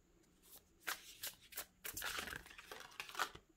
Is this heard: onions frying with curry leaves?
no